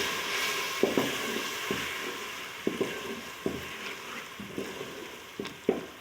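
Red chilli and turmeric are stirred into simmering green moong dal, a steady soft sizzle broken by repeated scraping strokes of a spoon against the pot at an uneven rhythm, close and moderately loud.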